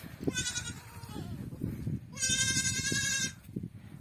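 Goat kids and lambs bleat at a livestock pasture, one short high cry early on and a longer, louder quavering bleat a second later, over low rustling and background noise.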